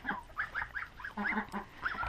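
Geese honk repeatedly in short nasal bursts, several calls overlapping at moderate distance, with no talking.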